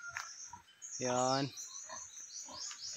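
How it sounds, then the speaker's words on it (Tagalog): A pig on a farm gives one loud, drawn-out squealing grunt close by, while someone speaks quietly before and after it. "May mga baboy din dito."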